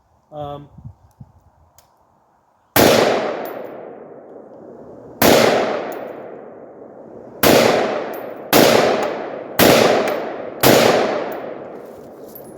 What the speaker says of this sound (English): I'm gonna actually like keep this off my shoulder and see how the gun cycles